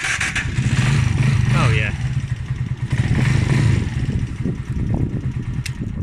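A Huonaio HN 125-8 125cc motorcycle cranks on its electric start and idles with a close, loud, steady putter, a voice briefly speaking over it.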